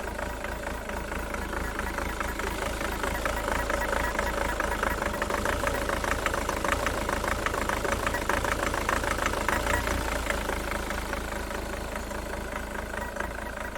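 Jaguar X-Type diesel engine idling with one injector's electrical connector unplugged, a steady rough clattering idle held close and even for the whole stretch, with no talk over it.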